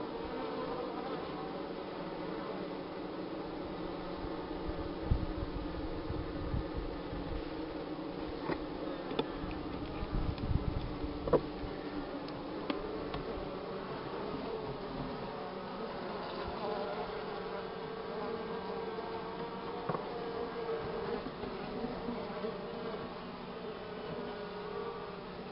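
Honey bees drone steadily inside a hive of a colony with laying worker bees, a dense, close buzzing that holds throughout with small rises and crackles, no voices over it.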